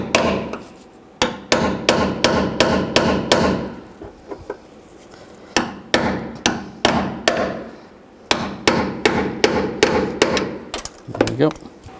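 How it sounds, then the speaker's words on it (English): A hammer drives out the door pin and bushings on a 2002-06 Chevy Avalanche, bursts of sharp, evenly spaced metal strikes separated by short pauses, loud and close with some handling noise between runs. "If you have to, you can hammer it out."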